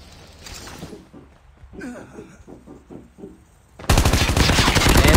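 Gunfire in the mobile shooter game Call of Duty Mobile, starting as faint muffled distant shots behind game sounds, then a loud sustained burst of rapid automatic fire close up for the last second and a half.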